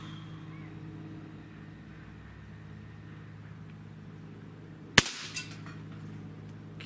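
A single sharp shot from a Benjamin EB22 air rifle with a short barrel, a sudden loud crack standing out of steady low background rumble and quickly fading.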